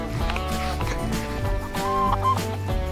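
Chickens cluck and call close by in a backyard flock kept for composting, with steady overlapping hen clucks and a few brief louder calls throughout, no talking.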